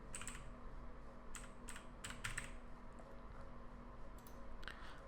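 Someone types a short word on a computer keyboard, a few quick bursts of crisp key clicks separated by brief pauses, close and clear over a quiet room hum.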